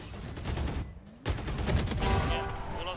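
In Valorant, several rapid missile launches burst out with sharp whooshes and explosive impacts, dense and loud game combat sound with a brief lull before a second barrage.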